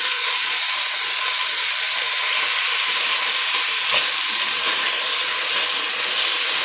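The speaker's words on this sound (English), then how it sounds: "You want to just make sure you're stirring this up as well. Trying to get those onions like nice and translucent." Onions sizzle steadily in a pot over medium-high heat for a chicken stew, a continuous loud frying hiss with faint stirring scrapes and no talk over it.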